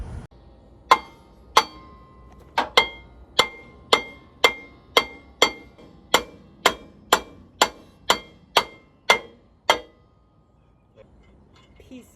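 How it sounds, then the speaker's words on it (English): A hammer strikes a worn brake rotor on a first-generation (2001–2007) Toyota Sequoia, roughly fifteen sharp metallic clanks in a steady rhythm, close and loud, ringing briefly after each blow before falling quiet. "try to knock it off with a hammer"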